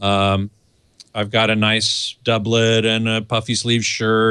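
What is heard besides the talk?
No everyday noises stand out.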